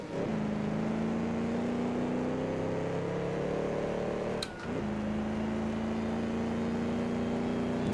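A 1934 Alfa Romeo P3 racing car in Assetto Corsa, its engine droning at a steady high pitch and rising, then briefly dropping on a gearshift before climbing again, loud and close.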